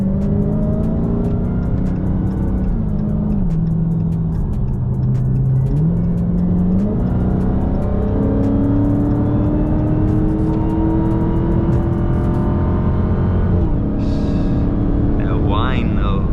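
A 2020 Dodge Charger Hellcat Widebody accelerates hard with a loud, steady supercharger whine rising and shifting in pitch over a deep engine roar, heard from inside the car throughout, with brief talk near the end.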